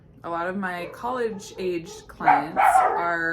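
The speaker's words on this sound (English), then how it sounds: "sorry about my dogs." Dogs barking repeatedly indoors at close range, sharp yappy barks overlapping with someone talking throughout.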